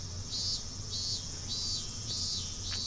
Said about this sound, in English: I stayed there alone, my body bathed in the lively voices of the cicadas.